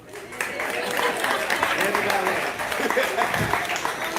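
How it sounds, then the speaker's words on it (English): An audience at a live poetry open mic breaks into applause, a continuous wash of clapping and crowd noise that holds steady for several seconds, mixed with voices. "Clap it up for the Lord."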